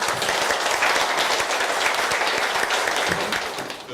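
Loud, dense applause from a conference audience at an international meeting, many hands clapping continuously and fading slightly toward the end, no voices over it.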